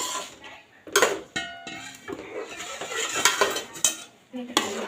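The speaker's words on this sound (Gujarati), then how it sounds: "હવે આપણે છાશ ને લોટ વાળું જે મિક્સ કર્યું તે બેટર નાખી દઈશું આમાં। બરાબર હલાવી દઈશું।" Buttermilk-and-flour batter stirred into a stuffed green chilli curry in a metal pot, with repeated clinks and scrapes of a spoon against the pan and a faint sizzle between strokes.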